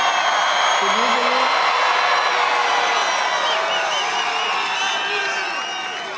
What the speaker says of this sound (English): Do you hear that crowd back there?